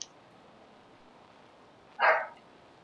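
One short dog bark sounds once, fairly distant, against a quiet room background.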